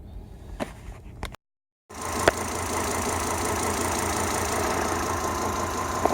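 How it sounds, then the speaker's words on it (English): A Volvo XC90 T5 idles roughly with a random cylinder misfire (code P0300). A few brief knocks come before a second of silence, then the engine settles into a loud, close, uneven rumble with occasional stumbles. "I got a code P0300, and that's random cylinder misfire"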